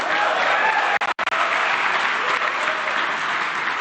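Audience applause at an inauguration ceremony for a business association's leadership, a dense, steady clapping from a large crowd that fills the whole stretch, broken by a brief near-silent gap about a second in.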